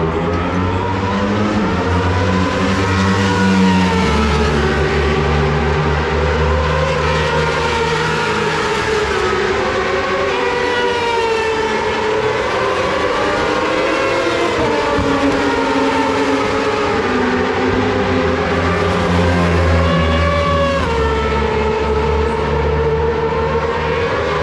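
Loud, sustained engine roar from bagger motorcycles racing, with rising and falling pitch sweeps as bikes pass close by one after another on the track, continuous throughout with no talk.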